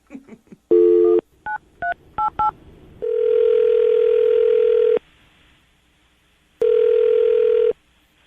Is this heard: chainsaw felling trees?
no